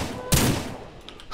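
One sharp, loud gunshot in the farming game Ranch Simulator cracks near the start, followed by a few fainter pops, with no talk.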